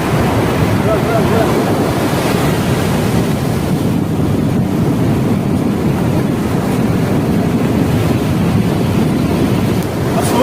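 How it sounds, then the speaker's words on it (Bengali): Loud, continuous roar of sea waves crashing close by at high tide, with strong wind buffeting the microphone the whole time. "পুরো নীল সমুদ্র, সমুদ্র এখন জোয়ার চলছে।"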